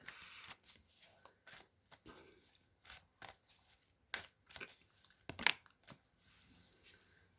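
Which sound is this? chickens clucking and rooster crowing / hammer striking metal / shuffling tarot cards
shuffling tarot cards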